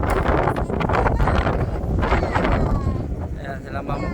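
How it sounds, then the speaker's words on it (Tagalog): Strong wind batters the microphone on a steep mountain road in Diwalwal, Monkayo, Davao de Oro, a constant loud roaring rumble with gusty flutters throughout. "Sobrang lakas ng hangin."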